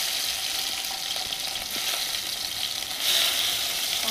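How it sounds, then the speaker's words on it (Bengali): Chopped tomato fries in hot mustard oil in a kadai for a mustard fish curry, giving a steady sizzle with scraping stirs that grows louder near the end. "টমেটোটা নাড়াচাড়া করে একটু আস্তে করে নাড়াচাড়া করে দিয়েছি।"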